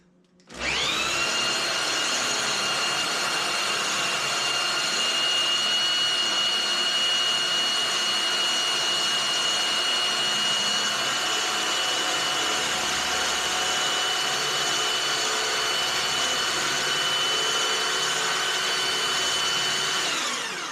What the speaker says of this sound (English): we've got an electric drill hooked up to the end of our drive shaft